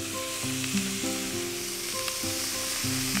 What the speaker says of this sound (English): I cook the meat in a generous amount of delicious mountain butter.